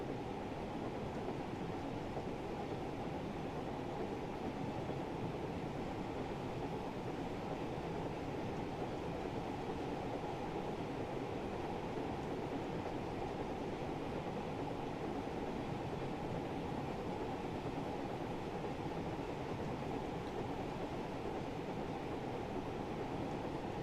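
A Thomas the Tank Engine train runs along the West Somerset Railway in a video game with a continuous rolling rumble. The wheels keep up a faint, steady track noise and no one speaks.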